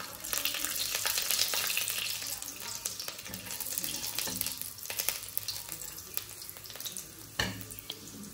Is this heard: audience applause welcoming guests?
no